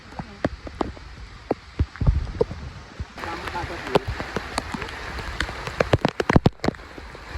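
Heavy rain grows harder over farm fields, with sharp drops pattering close by and a denser wash of rainfall building through the second half.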